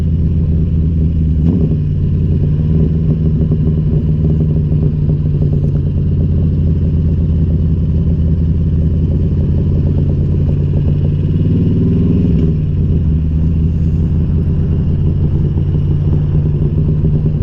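Motorcycle riding on an open road in spring, a steady, loud engine drone with wind rumble throughout, close to the rider, its pitch shifting briefly around the middle, with no talking.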